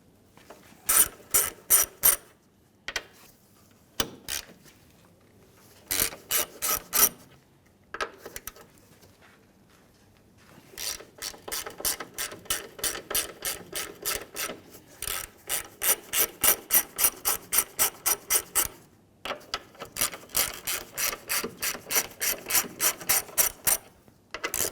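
Ratchet wrench loosening 14mm strut top nuts on a 2015-2019 Hyundai Sonata, with bursts of rapid metallic clicking separated by short pauses, then longer runs of steady ratcheting, close and clear.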